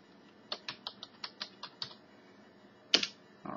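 A run of about eight evenly spaced key taps on a computer keyboard while a password is entered, close and crisp in a quiet room, followed after a pause by one louder key press and a final click.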